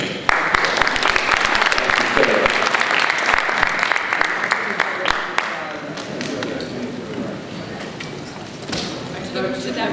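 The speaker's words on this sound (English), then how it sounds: "let's get a big round of applause" Audience applause at a Comic-Con press conference for The Hobbit, a loud sustained wash of clapping with a few sharp individual claps, gradually thinning toward the end.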